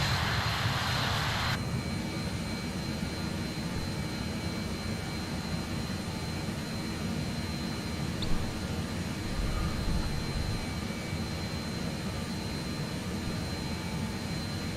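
A BAe 146 jet in Microsoft Flight Simulator 2020 gives a steady whining, roaring engine drone with a thin high tone, constant and moderately loud throughout, with a brief airy rush at the start and no talking.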